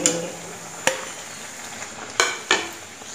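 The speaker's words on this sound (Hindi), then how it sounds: "इसमें थोड़े से बाकी पूड़ियाँ भी डाल लेते हैं फ्राई करने के लिए।" Puris deep-frying in hot oil, a steady faint sizzle with a few sharp clanks of a utensil against the pan, no voices.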